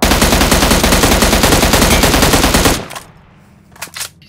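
Loud, rapid automatic gunfire in PUBG Mobile on the Miramar map, a continuous burst for nearly three seconds that cuts off abruptly, followed by a couple of fainter distant shots.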